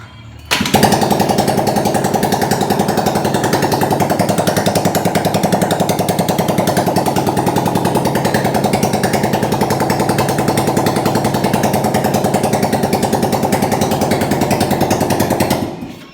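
Honda GL Pro motorcycle engine idling noisily with a rough, rapid mechanical clatter, loud and steady for about fifteen seconds, close by, with no one talking.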